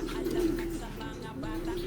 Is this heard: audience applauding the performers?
no